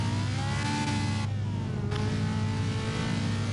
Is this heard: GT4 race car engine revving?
yes